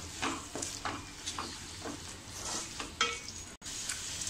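Prawn biryani masala (Everest brand) being sautéed and stirred in a pan, with soft sizzling and repeated scraping strokes of a spoon at a steady rhythm, close and fairly quiet, no talking.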